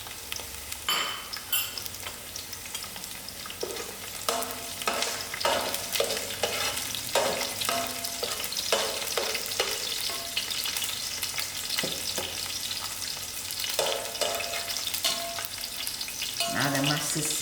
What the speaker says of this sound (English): Now the mustard seeds are busting, so it's ready to put in my herbs.